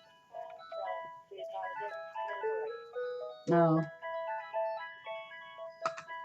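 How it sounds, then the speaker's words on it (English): A phone plays a melodic electronic ringtone for an appointment reminder, its chiming notes repeating in phrases while a voice speaks briefly partway through. "And there goes the phone on cue,"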